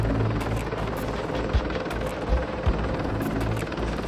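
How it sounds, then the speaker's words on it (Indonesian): A CH-53 Super Stallion heavy transport helicopter runs steadily and loudly, its rotor chop and turbine whine continuous with no talking. "CH-53 Super Stallion telah membuktikan dirinya sebagai salah satu helikopter angkut berat terkemuka di dunia"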